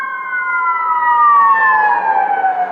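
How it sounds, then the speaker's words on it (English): An ambulance siren passes nearby outdoors. It wails loud and steady, and its pitch slides gradually downward as the vehicle goes by. No voices are heard. "That was an ambulance."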